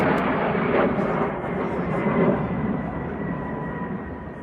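A loud, continuous roar of a Mi-8 military helicopter engine, close and steady, slowly fading slightly toward the end.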